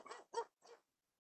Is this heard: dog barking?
yes